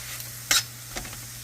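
Garlic and ginger sautéing in a pan for kabsa, a low steady sizzle with a sharp stir or scrape of the utensil midway and a fainter one shortly after.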